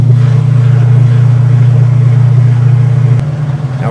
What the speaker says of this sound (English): I'm on the spin cycle here.